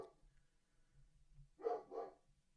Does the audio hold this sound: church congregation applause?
no